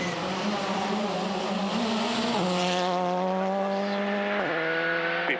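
A rally car is pushed hard through corners on a gravel stage in the Bay of Plenty, its engine screaming loud and close, with sharp gear changes stepping the pitch up and down.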